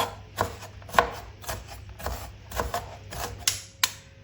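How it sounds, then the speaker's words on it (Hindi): A knife finely chopping onion on a board, a steady series of sharp, close taps at a quick, slightly uneven rhythm, with no voice over it. "एक दफ़ा इस तरह हम प्याज को बिल्कुल छोटा कर देंगे।"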